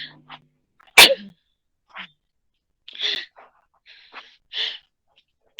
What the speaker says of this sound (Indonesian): Maaf, saya bersin.